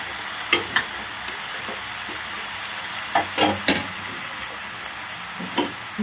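Mutton with raw tomato cooks over low heat in a pan, giving a steady soft sizzle. Scattered knocks and scrapes of a stirring utensil come every second or so, close up, with no talk.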